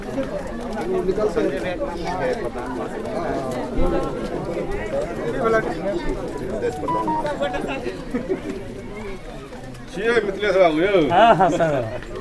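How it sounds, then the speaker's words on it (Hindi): A large, dense crowd chatters and murmurs continuously after politician Chirag Paswan arrives to meet job candidates, with many overlapping voices close by that swell louder near the end. "लोगों का भारी हुजूम।"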